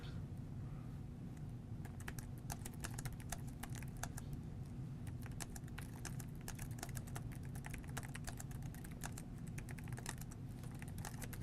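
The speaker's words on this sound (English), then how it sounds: "in the midst of typing this email" Steady, continuous typing on a computer keyboard while composing an email, with a constant patter of close, crisp key clicks over a low room hum and no talking.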